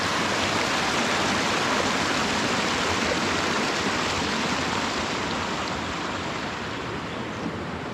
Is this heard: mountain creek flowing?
yes